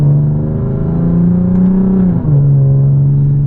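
A Lexus GS350 F Sport engine holds a loud, smooth droning rev from inside the car, dipping briefly near the two-second mark and then settling back to a steady growl.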